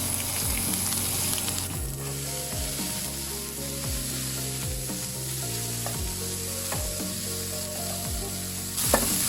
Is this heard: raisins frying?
yes